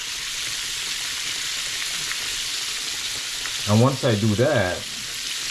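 Catfish frying Southern style in oil heated to 350 on a stove, a loud, steady, close sizzle that runs throughout while a voice speaks briefly near the end.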